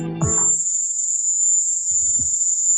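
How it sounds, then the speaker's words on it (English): Steady high-pitched cricket-like tone recorded in Havana, a single unbroken piercing whine holding level throughout, with a brief low voice-like murmur at the start and faint low rumbles near the end. "this high-pitched cricket sound seems to appear in all of them"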